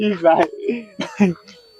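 A short throat-clearing cough mixed with a murmured voice, close by.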